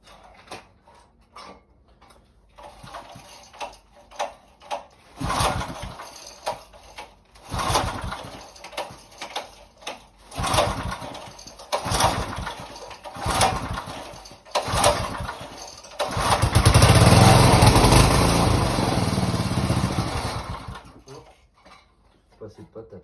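A Stihl HL92 petrol pole hedge trimmer being pull-started, a series of sputtering cord pulls and brief catches before the small two-stroke engine fires and runs loudly nearby, with someone talking in between.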